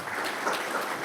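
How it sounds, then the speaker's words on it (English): Applause for Naeem Mohaiemen at the close of an on-stage conversation with Marina Tabassum, a steady, moderately quiet wash of clapping from an audience, lasting about a second with no voices. "A big clap for Naeem"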